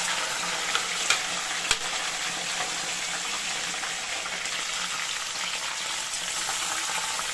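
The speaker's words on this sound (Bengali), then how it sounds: "এই যে টমেটো আর পেঁয়াজটা দিয়ে দিলাম আলুর মধ্যে।" Tomato and onion frying with potatoes in a pan, a dense continuous sizzle close up, with a couple of sharp utensil knocks near the start and no talk.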